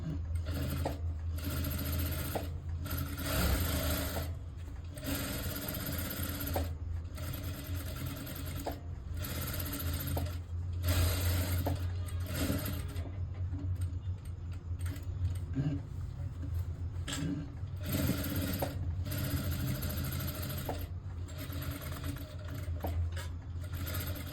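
A sewing machine stitching piping onto a blouse runs in steady, continuous whirring bursts with short pauses between runs, close and loud throughout, with no speech over it.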